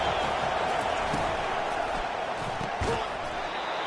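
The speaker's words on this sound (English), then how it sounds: "Listen to this crowd just shaking the girders of this place, trying to help their defense" A stadium crowd roars in a college football video game, a dense sustained wash of cheering noise with a few sharp thuds, under a voice speaking.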